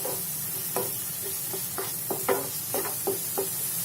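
Chopped capsicum being fried and stirred in a pan for pav bhaji, a soft sizzle under repeated scraping and tapping strokes of a spatula against the pan, close and moderately loud, no voices.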